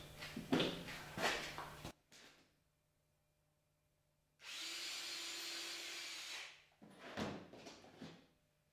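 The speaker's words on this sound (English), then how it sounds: "I'm going to screw in from this side to beef these trusses up on the 4 corners." A cordless power drill driving screws into doghouse trusses, several separate bursts of whirring with short stops and clunks between them, close and fairly quiet, no talking.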